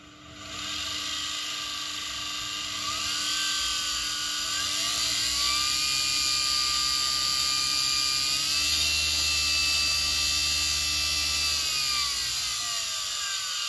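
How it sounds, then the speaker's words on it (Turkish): Washing machine motor run externally with torque speed control, spinning counterclockwise: a steady high-pitched electric whine that rises and dips slightly in pitch as the speed is adjusted, continuous and close, with no talking. "Şu an saat yönünün tersine döndüğünü görüyorsunuz. Sol tarafa dönüyor motor."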